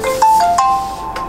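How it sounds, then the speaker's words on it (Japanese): Cute, bright electronic phone ringing tone of an outgoing call, a few short melodic beeps repeating clearly and alone. "お電話かけていきまーす"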